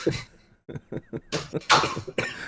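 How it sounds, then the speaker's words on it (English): Several short, sharp coughs come in a quick burst, close by, with some breathy vocal sounds between them. "Sorry if I randomly cough."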